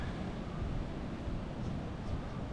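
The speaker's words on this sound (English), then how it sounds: "Waves lashing in." Surf rolls in steadily on a beach at a quiet resort in Sipalay on Negros island, a continuous broadband wash with some wind noise and no voices.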